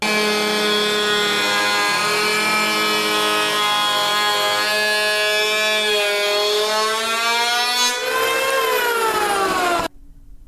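A Harbor Freight 7.5 amp handheld electric planer runs steadily through oak with a loud, continuous high-pitched whine whose pitch sags under load, then cuts off abruptly near the end.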